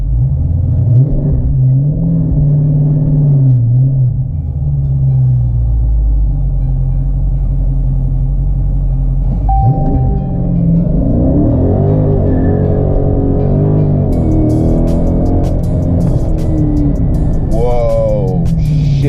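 A Dodge Charger Daytona 392 launches at full throttle using launch control, its loud engine rumbling low, then surging into a rising, revving acceleration with a distinct gear-shift sweep near the end, voices exclaiming over it.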